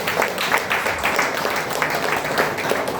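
An audience at a stage event breaks into applause, a dense, steady patter of many hands clapping throughout, fairly loud and continuous.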